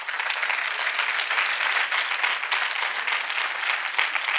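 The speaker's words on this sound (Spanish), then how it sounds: "Un aplauso al Señor." Church congregation applauding the Lord during a Spanish-language sermon, a dense, steady wash of clapping with no talk over it.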